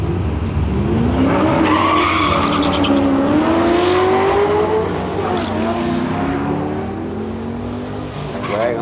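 A drag racing car makes a run down the strip at a test and tune day at Heathcote Park, its engine loud and sustained with rising revs and tire noise.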